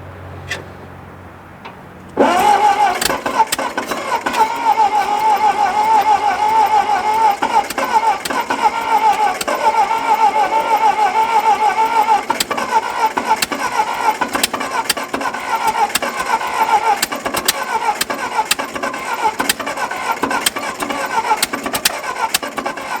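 A 1946 Ford 2N tractor engine cranks and then catches, settling into a loud, steady running chug with a ticking rhythm that lasts for the rest of the clip.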